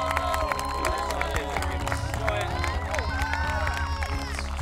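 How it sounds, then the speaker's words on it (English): A crowd at a triathlon claps and cheers for an arriving athlete amid busy outdoor chatter, with voices talking over the steady applause. "let's give him a clap as he's coming down"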